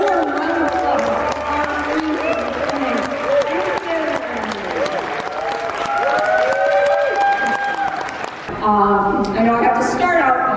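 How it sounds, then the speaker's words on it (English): Crowd applause and cheering greet actress Linnea Quigley at a Return of the Living Dead screening, clapping mixed with whoops and overlapping voices, then a brief lull before chatter and cheers resume. "So please give a warm round of applause."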